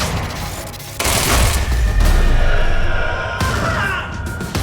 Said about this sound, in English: Stop throwing grenades!